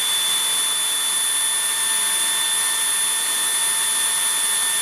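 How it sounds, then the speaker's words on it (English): A steady high-pitched whine of a Tocmoc T185 cordless vacuum running on minimum suction, constant and close with no pauses. "the noise level in minimum suction mode is 60 decibels"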